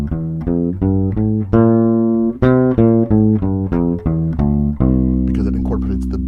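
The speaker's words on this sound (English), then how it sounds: "So C Mixolydian would sound like this." A bass plays a C Mixolydian scale one note at a time, each pitch stepping steadily upward with strong, full low tones and no voices.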